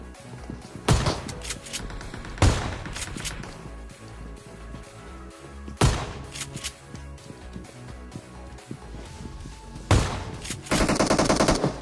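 Shotgun blasts ring out in a video game shootout, four or five loud separate booms several seconds apart over a busy background of game noise, with a rapid burst at the very end.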